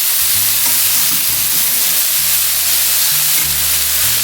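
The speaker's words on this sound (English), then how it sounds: "All right, I've added the peppers and everything in there. So I'm going to stir it in real good." Hot peppers and chicken sizzle loudly in a pan while being stirred, a dense steady frying hiss with low scraping thuds from the stirring.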